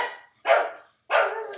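A dog barks twice, each bark loud and close with a pause between them and no other sound.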